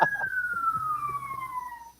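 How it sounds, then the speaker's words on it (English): An emergency vehicle siren sounds outdoors along a major north-south road, one falling wail that glides steadily downward, fairly close, with faint background noise and brief bits of voice underneath. "Who's got the siren outdoors?"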